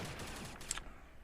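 An airsoft AUG A1 rifle fires a quick mix of single taps and a short full-auto burst, sharp mechanical cracks close by in an outdoor game setting.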